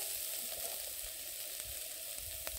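Onions frying in a pan with chilli, bay leaves and cumin for a green chicken curry, giving a steady soft sizzle with faint crackles throughout.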